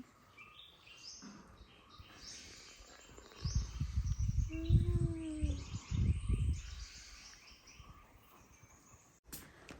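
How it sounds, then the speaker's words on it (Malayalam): Birds sing faintly outdoors with soft, scattered chirps and a brief cooing tone in the middle, over a low background rumble. "നല്ല പക്ഷിൻ്റെ ഒച്ച കേൾക്കാം"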